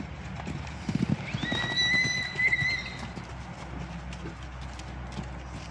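Horses neighing and walking as a mare meets two new horses, a loud whinny in the middle over faint hoof clops, with no talking.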